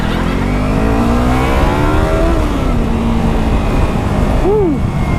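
A Yamaha R3 motorcycle engine runs steadily while riding through city traffic in Tanauan City, Batangas, its pitch climbing and dipping with throttle changes, loud and close over constant road and wind rush.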